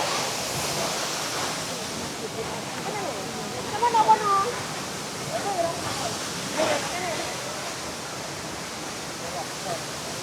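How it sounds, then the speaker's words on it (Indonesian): Coban Rondo waterfall in Malang roaring as a steady broadband rush throughout, mixed with strong wind, while a person speaks briefly over it. "Air terjun Coban Rondo."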